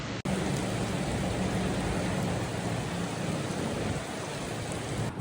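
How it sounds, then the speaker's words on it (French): Heavy rain pours during a cyclone in Sydney, making a dense, steady hiss and roar that stays loud and unbroken throughout, with no voices. "Donc, il pleut comme pas possible."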